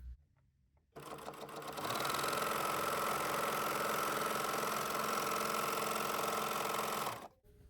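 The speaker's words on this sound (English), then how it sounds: "this is a 30-year-old sewing machine or serger" A 30-year-old Husqvarna Viking 1001L serger runs at speed for several seconds, a loud, steady mechanical whir with rapid stitching chatter, starting and stopping abruptly.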